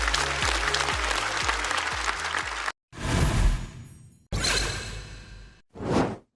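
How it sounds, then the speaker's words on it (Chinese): A talk-show audience claps for a stand-up comedy finalist, bursts of applause broken by sharp cuts and whooshing transitions, fairly loud and without speech. "再次掌声祝贺李玟！"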